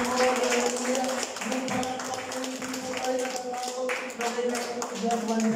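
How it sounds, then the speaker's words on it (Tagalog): A church congregation claps in praise, with steady rhythmic handclaps over sustained music and voices, lively and continuous. "Palakpak nga tayo sa Panginoon"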